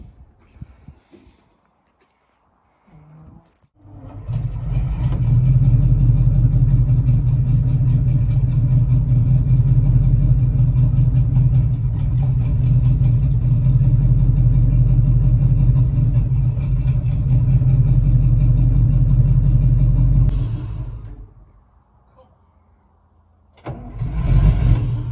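An Alvis Stalwart military truck engine cranks, catches and roars into a loud, steady run for about fifteen seconds before cutting out, then starts to crank again at the end.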